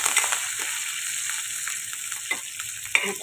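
Curry leaves, garlic and chillies fry in hot oil in a pan, giving a steady close sizzle with a few sharp pops and spatters, and no talk.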